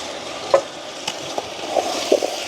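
Vegetables are stirred with salt in a pot for a village-style vegetable biryani. A soft sizzle runs underneath as a utensil scrapes and knocks a few times at irregular intervals, close by with no speech.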